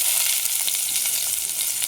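Chopped onion sizzles in hot oil in a small pan for khichdi, a steady close hiss with light stirring scrapes throughout, no voices.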